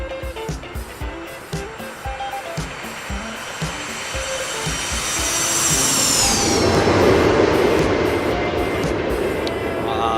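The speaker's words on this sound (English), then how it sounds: "The flaps are extending." Flaps extending on a Boeing 737-200 in the X-Plane flight simulator: a steady cockpit drone and airflow roar swells gradually over the second half, with a high whine sliding down and some clicks early on.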